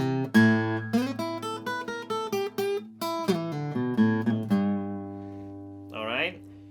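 Acoustic blues guitar lick in A, a run of plucked notes and slides over a ringing low bass note, ending in a sustained chord that rings out alone.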